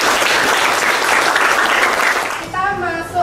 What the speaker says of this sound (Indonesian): Kita kasih aplaus ya untuk jawabannya ya.